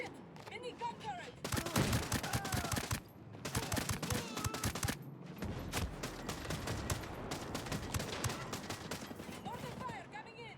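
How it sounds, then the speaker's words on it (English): Minigun turret firing in Ghost Recon Breakpoint on Golem Island, rapid bursts of heavy automatic gunfire mixed with other shots and blasts, loud and close, while voices call out over the shooting. "Mini gun turret."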